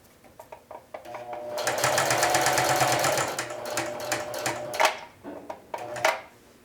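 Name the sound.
sewing machine stitching a flag onto a jean jacket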